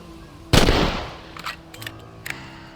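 A rifle fires in the video game Red Dead Redemption: one loud, sharp crack with a rolling echo, then a few fainter, smaller pops and clicks trailing after it.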